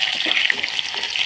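Garlic paste fries in hot oil with cumin, fenugreek, mustard seeds and dried red chillies for a mango sesame pickle, a close, continuous crackling sizzle.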